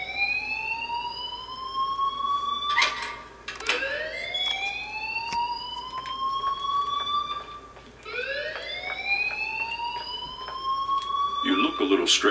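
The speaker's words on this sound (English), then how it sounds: "please turn off that alarm since that's your job" An alarm in the video game Life Is Strange wails in rising, repeating electronic sweeps, each climbing in pitch and then resetting, with brief clatters between cycles and a steady hum underneath.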